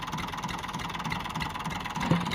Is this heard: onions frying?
no